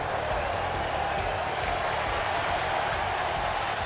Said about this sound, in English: Crowd on their feet for Jeff Hardy here tonight.